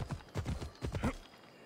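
Rhythmic clip-clop of horse hooves in Assassin's Creed Odyssey, several quick, close hoofbeats in a galloping pattern, then quiet.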